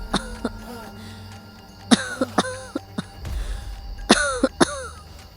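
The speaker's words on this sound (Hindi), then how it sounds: "अचानक पीछे से किसी के खांसने की आवाज आई" Someone coughs in several short, sharp bursts, clustered in quick pairs and triples with pauses between, close and distinct against a quiet room.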